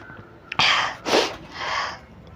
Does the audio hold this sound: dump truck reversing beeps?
no